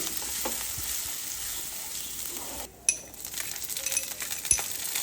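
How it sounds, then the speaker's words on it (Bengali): Grated ginger fries in hot oil for a shukto-style mung dal, giving a steady, soft sizzle near the pan, with a sharp metallic clink partway through. "এবার আমি এখানে গ্রেট করা আদাটা দিয়ে দিলাম"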